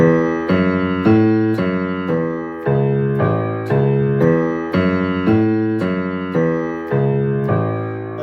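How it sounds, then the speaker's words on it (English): Walking bass pattern played on a keyboard or piano, a steady stepping line of repeated note pairs under chords, moderate tempo and evenly pulsed, with no voices. "That's a regular walking bass pattern."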